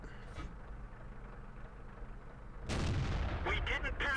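A Type 58 tank gun fires once in World of Tanks, a sudden heavy boom breaking in after a low rumbling background, followed by a ringing tail and short sharp effects.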